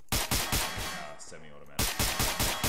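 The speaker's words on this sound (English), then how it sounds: "and then I just sniped the rest with this gun" Rapid loud gunshots from a semi-automatic weapon in the game Garry's Mod, several sharp reports in quick bursts with a brief pause in the middle.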